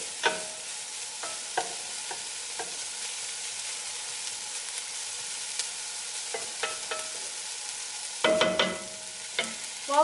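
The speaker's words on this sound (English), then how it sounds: "While the onions are frying" Onions stirred and sizzling in a pan, with scattered scraping clicks of a utensil over a steady frying hiss, louder clattering near the end.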